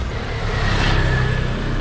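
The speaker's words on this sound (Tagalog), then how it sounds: "Merong mga dumadaang mga sasakyan." Cars passing on a road while people walk alongside, a steady broadband traffic rumble with low engine drone that swells slightly mid-way, close and continuous with no speech.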